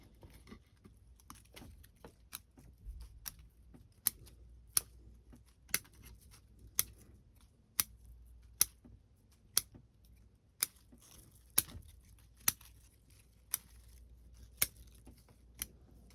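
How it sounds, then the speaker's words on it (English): Scissors trimming branches on a Chinese elm bonsai during summer pruning, sharp crisp snips at a fairly steady pace of roughly one per second over a quiet room background. "we're gonna trim some of these back too"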